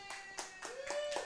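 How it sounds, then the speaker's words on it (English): Five sharp, evenly spaced hand claps, close and fairly quiet, from a small audience welcoming a performer onto a show, with a faint steady tone running underneath. "please give it up for Mr. Keegan McInroe."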